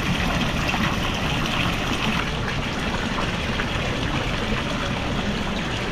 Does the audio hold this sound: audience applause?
no